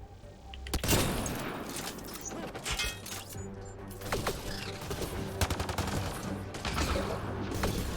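Rifle gunfire in Mass Effect Andromeda: a loud opening shot followed by scattered bursts and sharp cracks of combat, with mechanical clatter between the shots.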